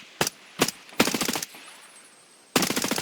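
Suppressed gun firing in the video game Escape from Tarkov: two single muffled shots, then a short rapid burst, a pause, and another burst, close and sharp.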